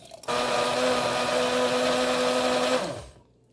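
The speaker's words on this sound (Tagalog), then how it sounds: "lagay na natin at i-blender natin itong ating mixture" A blender mixing a soy sauce-based sauce whirs loudly and steadily for a few seconds, then winds down and stops.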